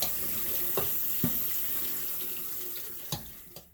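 Tap water runs steadily into a sink as apricots are rinsed, a close continuous splashing hiss broken by a few brief knocks and splats of fruit handled under the stream.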